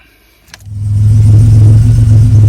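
A 1987 Buick Grand National engine cranks briefly and then catches, settling into a loud, steady close-up run that holds for the rest of the moment.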